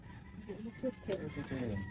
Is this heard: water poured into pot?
no